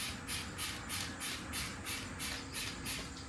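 Super C wheel cleaner foam sprayed onto a Fox Body car wheel, a series of about nine evenly spaced, close hissing spray bursts in a steady rhythm.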